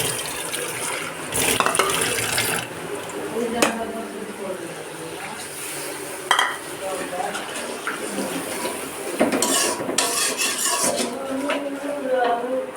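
Water poured into a pan of spices and stirred in during home cooking, a wet splashing and scraping with clinks of a utensil against the pan, continuous and fairly close, with a voice speaking at times.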